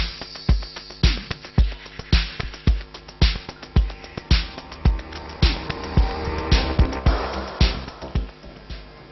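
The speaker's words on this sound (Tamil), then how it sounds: "இது வந்து 1600 cc இன்ஜின்." Maruti Suzuki S-Cross 1.6-litre 1600 cc engine running, heard as a close, steady series of rhythmic pulses and thumps with no talking.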